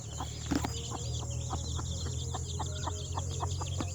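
A mother hen clucks steadily with her chick close by, a run of regular short clucks over a constant low background hum, with a brief louder burst near the start.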